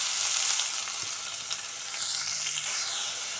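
Garlic, green chilies and curry leaves frying in hot oil for a tomato gojju, a soft, fairly quiet hiss of sizzling with a few faint stirring clicks, steady and close, without speech.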